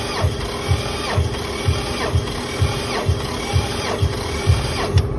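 A 2010 Toyota Highlander 3.5 engine cranks over during a compression test, with a steady rhythmic chug, about two beats per second, mechanical and close without a start.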